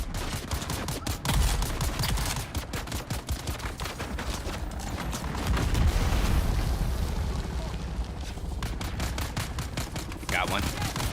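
Rapid shotgun blasts and heavy gunfire from the Dune Awakening video game fill the clip, loud and dense, with bursts and explosions overlapping almost continuously.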